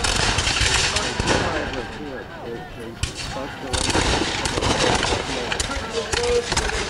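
Musket volleys at a French and Indian War reenactment at Fort Niagara: loud sharp reports and rolling booms, several shots clustered, with crowd noise and talk underneath.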